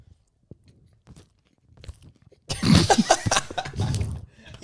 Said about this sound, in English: You chewing into the mic.